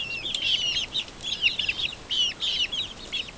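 Chickens, including Buff Orpingtons and mixed breeds, cluck and chirp in a busy overlapping flock over a steady hiss of background noise.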